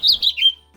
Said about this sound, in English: That's a bird, un pájaro.